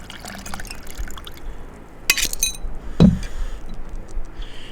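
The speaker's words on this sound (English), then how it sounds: "I'm going to double strain it today in a martini glass" A cocktail is double strained from a shaker into a martini glass, giving a soft trickling pour with light clinks of glass and metal and a sharper knock midway, with nobody speaking.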